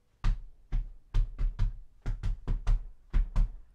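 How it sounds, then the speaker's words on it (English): Feet stomping on the floor as body percussion, ten heavy, thudding stomps at close range in an irregular rhythm, with no talk. "We can stomp our feet."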